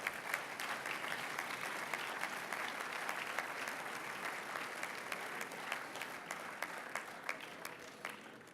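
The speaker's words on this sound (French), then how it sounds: "Je crois qu'on a le devoir de les applaudir très fort" Congress hall audience applauding Belarusian guests at a European party gathering in Malta, a dense, steady wash of many hands clapping throughout, fairly distant and even, tapering slightly at the end.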